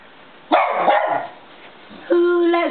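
Jack Russell terrier howling and yowling in a sung, drawn-out way, two close loud bursts with a pause between, the second rising into a held tonal wail.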